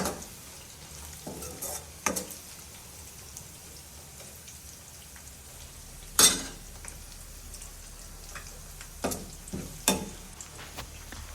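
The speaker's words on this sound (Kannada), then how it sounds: "ಚೆನ್ನಾಗಿ ಫ್ರೈ ಮಾಡಿ, ಸ್ವಲ್ಪ ಡೀಪ್ ಫ್ರೈ ಮಾಡಿಬಿಟ್ಟು ನೆಕ್ಸ್ಟ್ ಕರಿ ಲೀವ್ಸ್" Curry leaves frying in hot oil for tomato gojju give a soft, steady sizzle, broken by a few sharp pops and stirring clinks, close and fairly quiet, with no talk.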